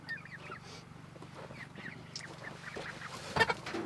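Chickens in their run on an off-grid homestead give soft, scattered clucks and chirps at a moderate distance, with a slightly louder burst of calls near the end.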